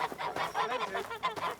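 Geese honk repeatedly in a village scene from a TV drama, a series of nasal calls in quick succession at moderate volume, with no talk over them.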